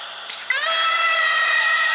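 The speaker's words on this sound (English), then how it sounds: "He knows how to shout." Someone shouts loudly into a microphone, one long sustained high-pitched yell starting after a brief pause and holding strong to the end, close and piercing.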